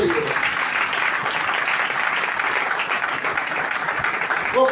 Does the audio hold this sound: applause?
yes